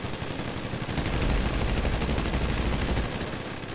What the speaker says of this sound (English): That's a fucking minigun.